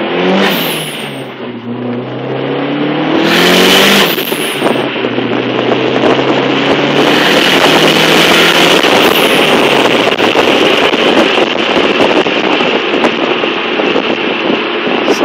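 A project car's engine idles and then revs hard, loud and close, with rising and falling pull, sustained roar and wind buffeting the microphone.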